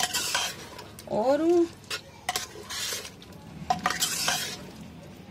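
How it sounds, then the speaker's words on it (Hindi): Chicken korma being stirred in a pot, a metal spoon scraping and clinking against the sides in several close strokes over a soft sizzle, with a brief spoken word. "अब हम इसको हिलाते हैं"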